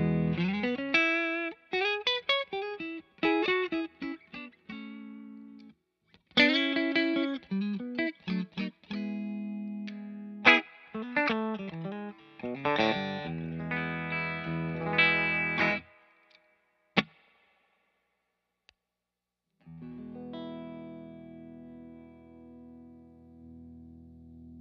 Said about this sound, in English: This is an awesome new boost pedal that has a lot of tonal flexibility, the ability to have a cleaner boost as well as a saturated boost